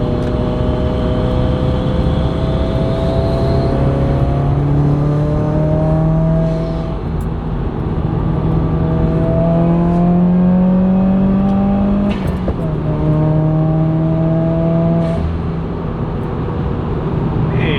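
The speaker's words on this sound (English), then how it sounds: "hopefully you guys heard some of those pops in the background in between the third to fourth shift" A tuned Subaru WRX accelerates hard through the gears, its engine note climbing in repeated sweeps with brief pops at the shifts, loud and close amid surrounding traffic.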